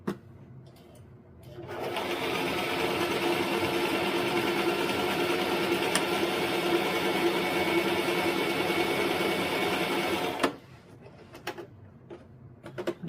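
A sewing machine runs in one continuous burst of fast mechanical stitching for about eight seconds, with quiet handling sounds before and after.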